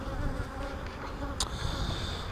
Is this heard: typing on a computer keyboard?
no